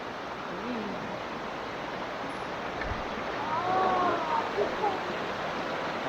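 A cold, deep river on a hike near hot springs flows in a steady broadband rush, with a few soft splashes and light movement near the listener and no talk.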